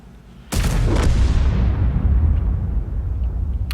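A tank destruction explosion in a video game: one sudden loud boom followed by a second hit and a long rumbling, decaying roar, with no talking.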